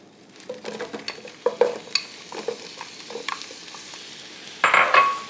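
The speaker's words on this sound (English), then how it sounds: "Now that the butter's melted, I can add in my apples." Sliced apples going into melted butter glaze in a pan for caramel apple pork chops, with light stirring and scraping clatters, then a louder burst of sizzle near the end.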